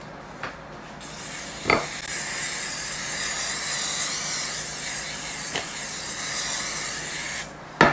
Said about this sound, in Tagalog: Isprehan natin ito